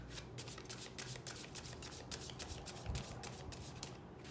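Tarot cards being shuffled by hand, a rapid run of crisp riffling flutters and soft slaps repeating close up and fairly quiet, with no voice over it.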